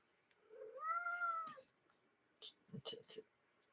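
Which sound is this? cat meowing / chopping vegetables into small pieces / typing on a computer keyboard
cat meowing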